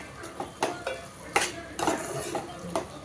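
Gongura boti curry, Telangana style, being stirred in a pot after masala goes in: a spoon scrapes and clinks against the metal in an uneven rhythm over a faint sizzle, close up with no talking.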